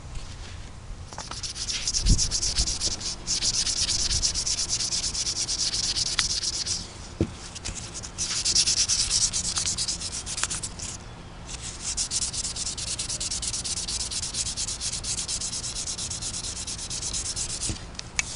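Continuous 80-grit belt sander grinding a knife blade with a high rasping hiss, pausing briefly a few times between passes, close and fairly loud.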